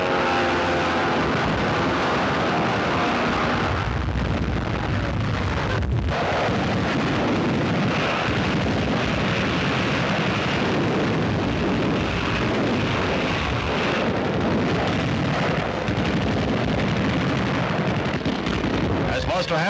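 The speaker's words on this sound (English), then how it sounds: "Then, without warning, Japanese planes attacked." Japanese planes attacking the gunboat USS Panay, a sustained loud roar of aircraft engines with explosive rumbling and blasts, dense and continuous throughout.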